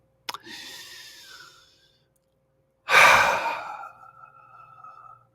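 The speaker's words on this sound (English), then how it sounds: "now notice I'm intentionally breathing" Deliberate breathing close to the microphone: a long, airy exhale after a small click, a pause, then a stronger, louder breath drawn out and trailing away.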